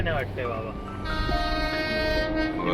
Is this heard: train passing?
yes